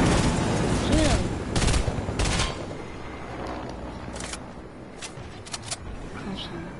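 Video game gunfire bursts loud and close at the start, then thinner scattered shots further off, with excited players talking over the action.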